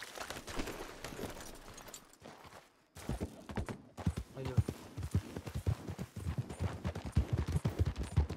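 Horse hooves clip-clop steadily in the video game Red Dead Redemption 2, a fairly loud rhythmic trot over background game sound, with a brief near-silent gap before the hoofbeats resume and continue.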